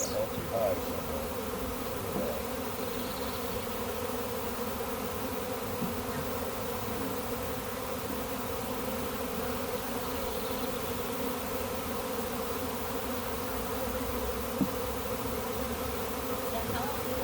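A honey bee swarm being caught in Galesburg gives a steady, dense buzzing that holds at an even level for the whole stretch, with faint talk now and then underneath.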